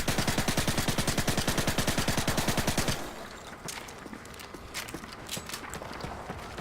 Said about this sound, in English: this is the holographic silenced UMP